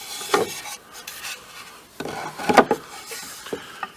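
A wooden sign is smoothed by hand around carved letters, with intermittent scraping and rasping strokes in short bursts and quiet pauses between them.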